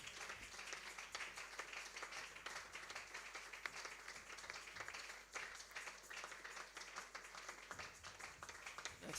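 A church congregation at a Sunday worship service applauds and cheers, with sustained dense clapping filling the room steadily throughout, without a break, at a moderate distance.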